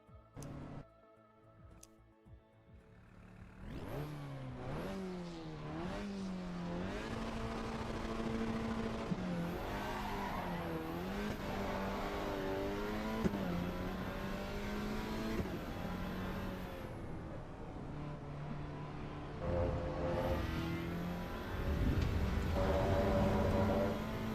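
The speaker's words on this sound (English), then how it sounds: "Big overrun on the exhaust." A car on road tyres in the racing game Assetto Corsa Evo, its engine revving up and down through gear changes with exhaust overrun crackles on lift-off, loud and continuous with no talk.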